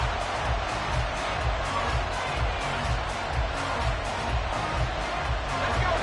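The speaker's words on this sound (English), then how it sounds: "This crowd turning up the decibel level." A football stadium crowd roars loudly during a 3rd-and-long play, a dense, sustained wall of cheering that barely changes in level.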